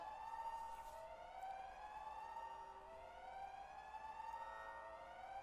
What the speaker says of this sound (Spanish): escucho la alarma pitando en la distancia